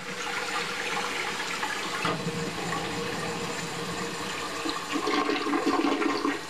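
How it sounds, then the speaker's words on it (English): A household toilet flushes nearby, a loud continuous rush and gurgle of water that swells toward the end as the bowl refills, with no talking. "you simply flush the toilet"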